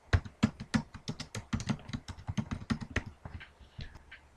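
Typing on a computer keyboard while entering user account details during a Linux Mint setup, a quick run of close, crisp key taps at an uneven rhythm, fairly loud, with no talking over it.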